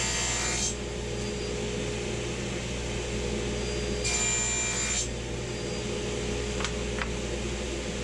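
A saw cuts through a wood segment for open segment woodturning in two short, loud rasping bursts, each under a second long, over a steady shop hum, followed by a couple of light knocks.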